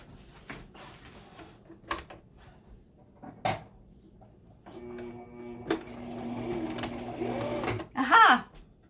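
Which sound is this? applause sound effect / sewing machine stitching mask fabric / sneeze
sewing machine stitching mask fabric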